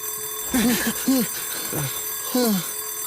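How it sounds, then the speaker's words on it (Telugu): Alarm bell ringing in a Telugu film scene, a few short ringing bursts separated by gaps against a noisy background, with faint voices nearby. "అలారం ఇంకా మోగలేదనుకున్నాను మోగింది"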